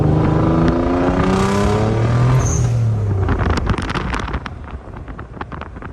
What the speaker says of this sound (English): You guys can hear the blow-off valve.